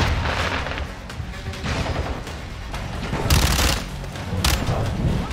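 A grenade blast and gunfire in Call of Duty Modern Warfare II campaign combat: dense, continuous battle noise with heavy booms swelling at intervals, loud and close throughout.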